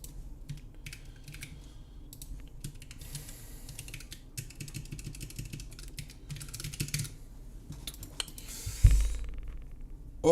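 Fast, continuous clicking of a computer keyboard during C programming, keystrokes rattling in quick irregular bursts close by and fairly quiet, with a louder clack near the end.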